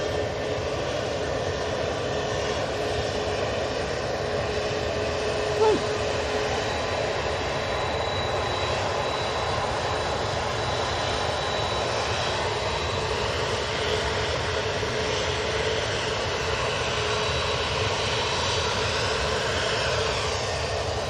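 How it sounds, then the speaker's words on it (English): An easyJet Airbus A320neo airliner departs from Manchester Airport. Its continuous engine roar is loud and steady throughout, with a high whine running through it, and there is no talk. "next out is this easyJet"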